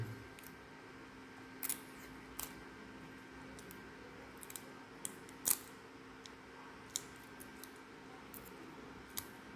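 A utility knife cuts insulating tape stuck onto a laptop, making a few faint, sharp clicks and scrapes spread irregularly over a quiet room background.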